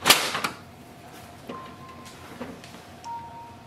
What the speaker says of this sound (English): Next step is to load the paper tray. Slide it out from both sides.